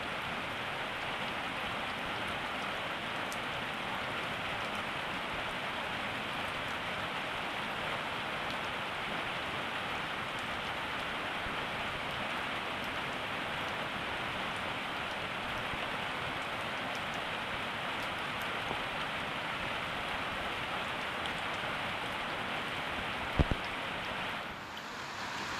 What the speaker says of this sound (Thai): ฝนตกมืดมือมืดคืน